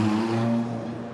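A Ferrari race car engine idles and rumbles in the pit lane at the Gulf 12 Hours endurance race, a steady low drone fading slightly toward the end, heard alone.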